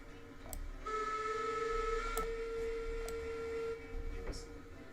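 A steam locomotive whistle in Railroads Online sounds in a sustained tonal blast, starting soft, then rising and holding steady for about three seconds before cutting off. Faint background noise and small clicks run underneath.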